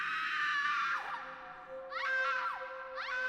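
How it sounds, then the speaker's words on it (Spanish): A harrowing, sustained high scream rises and wavers, breaking off with sliding pitch bends and returning in repeated wails, loud and close. "un grito desgarrador resonó desde el fondo del pasillo"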